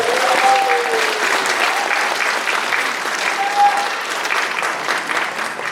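Sustained applause from a concert audience fills the room, steady and loud throughout, with a couple of faint whistles cutting through the clapping.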